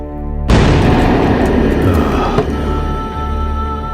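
A single loud gunshot from a Telugu film scene, a sudden boom that cracks open and rings out into a long, fading reverberant tail with a faint second thump.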